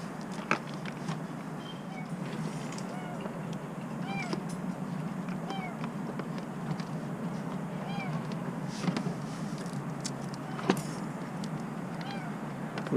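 A kitten trapped down an underground dryer vent gives repeated thin, high meows, some faint and some closer, over a steady low hum with occasional scrapes and taps.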